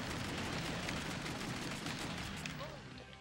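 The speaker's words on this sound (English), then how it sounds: "They're shooting Tex." Rapid, repeated gunfire from The House of the Dead 2 arcade shooter crackles densely and loudly across the scene, fading slightly at the end, with voices talking faintly underneath.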